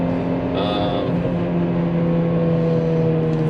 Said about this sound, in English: all I'm hearing currently is just a really happy 2ZZ that likes to run up into those high revs